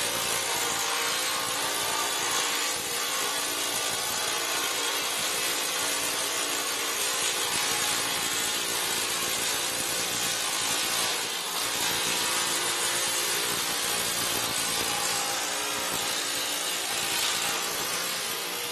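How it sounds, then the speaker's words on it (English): A planishing hammer smoothing sheet metal in a fabrication garage, giving a dense, continuous rapid hammering racket that stays steady and loud for the whole stretch with no voices. "That planishing hammer is going to smooth some of those out now"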